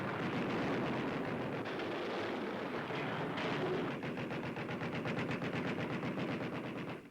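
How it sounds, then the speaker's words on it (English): Anti-aircraft guns on a World War II carrier fire at an attacking Japanese plane, a loud continuous burst of rapid shots with no voices, turning sharper and more distinctly pulsed in the second half. "A Jap plane is met with a hail of anti-aircraft fire"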